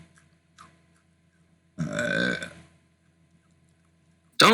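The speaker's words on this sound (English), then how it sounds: "Don't fucking burp and excuse you." A loud, close burp lasting about a second stands alone between quiet stretches, with a short sharp noise at the end.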